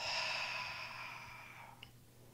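A single long, deep exhale through an open mouth during a yoga session, close and soft, fading steadily until a faint click at the end.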